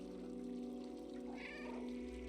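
A cat meows in the video game Stray, a short in-game cry over a steady musical hum, with no talk.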